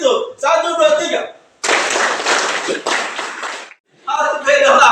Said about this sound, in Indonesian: Begini, tepuk tangan orang Muslim.